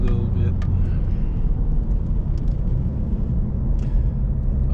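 A BMW 318d E46 diesel car drives and accelerates, heard from inside as a loud, steady low engine and road rumble; a voice speaks faintly over it.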